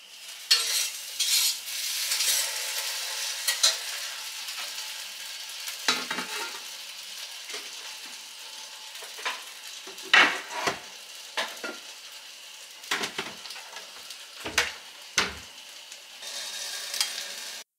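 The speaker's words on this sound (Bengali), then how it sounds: "এবার আলুটাও ভেজে নিলাম।" Potatoes fry and are stirred in a wok, a soft continuous sizzle broken by repeated scraping strokes of a spatula against the metal, close by and moderately loud with no talking.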